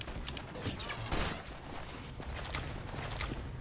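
Rapid, dense bursts of video game gunfire crackle continuously for a few seconds, loud and close, with no voices over them.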